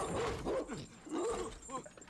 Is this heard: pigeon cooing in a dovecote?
no